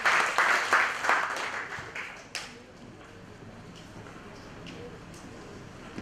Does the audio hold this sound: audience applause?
yes